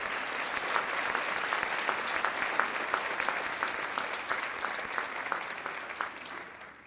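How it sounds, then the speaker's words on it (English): Applause at a graduation celebration for a class of 2006, a dense, steady wash of many hands clapping from a crowd, fairly far and moderate, slowly fading at the end. "Please give them a round of applause"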